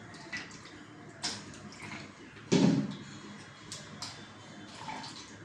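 Fish are lifted out of water in a home kitchen, with splashing and dripping water in several short bursts, one louder splash in the middle, close and fairly quiet.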